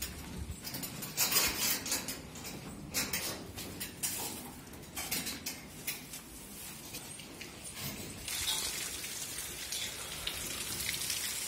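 Steady rain falls on a farm during bale hauling, pattering densely on nearby surfaces with bright drops. Occasional light metallic clinks sound close by, and no one speaks.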